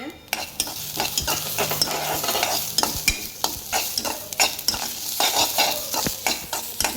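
Sesame seeds roast in a pan with garlic, onion and chili, a steady sizzle broken by repeated scraping strokes of a spoon stirring, close and fairly loud.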